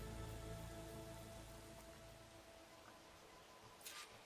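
Steady rain in the video game Horizon Forbidden West, a broad hissing patter that stays even and faint throughout with no speech.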